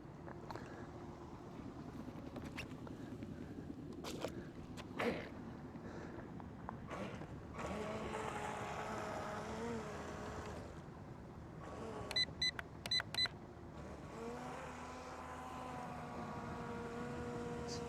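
A budget WLtoys WL912-A RC speed boat runs on water, its small electric motor giving a faint, distant whine that rises and falls in pitch, with a few brief clicks partway through.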